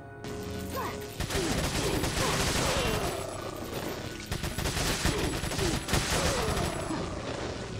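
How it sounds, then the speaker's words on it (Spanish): Rapid gunfire bursts in the Resident Evil 4 Separate Ways DLC during a final battle, dense repeated shots and impacts close and loud throughout, with only faint voice underneath. "¡No vale doble disparo!"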